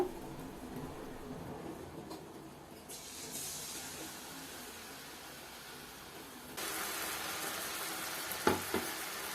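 Kerala tea-shop style Nendran banana bajji fries in hot oil over medium heat. A soft continuous hiss swells louder partway through, with a couple of sharp clicks near the end.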